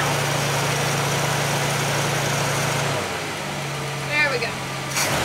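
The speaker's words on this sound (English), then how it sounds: "what you'll do is you'll hear the idle drop back down." Straight six engine fitted with an Autolite 1100 carburetor idling steadily, close and fairly loud, then the idle drops lower partway through, with a voice talking faintly over it.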